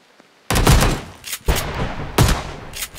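A pump-action shotgun fires in an online shooter video game, three loud, close blasts about a second apart, each ending in a short echoing tail, with no talk over them.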